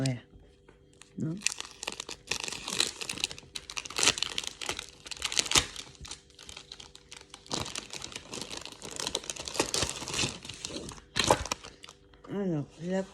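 Sheets of scrapbooking paper crinkle, rustle and crack in bursts of close handling, with a woman chatting in French over much of it.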